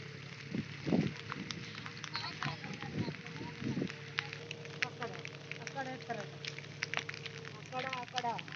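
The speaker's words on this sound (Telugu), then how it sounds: "వర్షం అయితే ఇచ్చి పడేస్తుంది ఇక్కడ చూడవచ్చు" Heavy rain pours across a village field in a steady broadband hiss with scattered patter, while people talk over it near the start.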